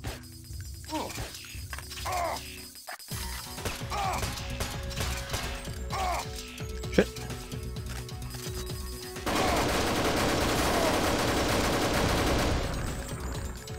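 Gunshots ring out in the Deus Ex video game inside an underwater base, scattered sharp reports with a clattering, crash-like impact and a steady mechanical hum behind them, and no one talking.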